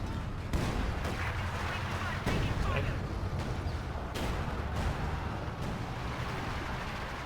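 A Company of Heroes 2 artillery barrage of shells and rockets landing, heavy thuds and cracks at irregular intervals over a constant rumbling battlefield, with a commentator talking throughout.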